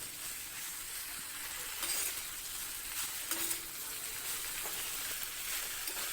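A vegetable curry frying in oil over a high flame while a spoon mixes it, producing a continuous hissing sizzle close by with a few soft scraping strokes and no talk.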